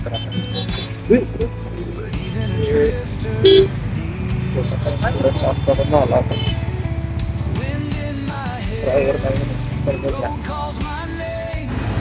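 Heavy Indian city traffic jam near Hinjewadi on the road toward Lonavala, with engines idling and several short car and motorcycle horn toots breaking through a continuous road roar, while people talk over it.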